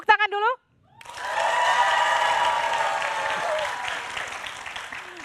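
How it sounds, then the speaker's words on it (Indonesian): A short spoken phrase gives way to a crowd of supporters at a Jakarta gubernatorial debate breaking into applause and cheering, a broad steady roar that holds and slowly fades. "Saya minta semangatnya lagi dari para pendukung, tepuk tangan dulu"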